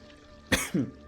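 A single sharp cough rings out close up, followed by a short throaty clearing sound.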